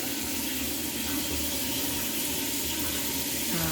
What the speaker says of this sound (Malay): Boleh nampak air, titisan air akan jatuh daripada atas.